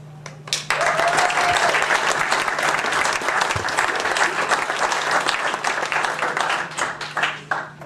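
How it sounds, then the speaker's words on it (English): Audience applause at a Bergen County freeholders public meeting, breaking out sharply after a brief pause and continuing as full, sustained clapping in a hall before thinning into scattered claps near the end. "And we're here to present a certificate of achievement and to applaud and congratulate Vice Chairman Tracy Zer this evening."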